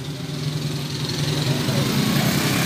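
A Honda Smash 115 motorcycle engine idles steadily with a low, even rumble and faint vibration, close by, continuous throughout without any other sounds.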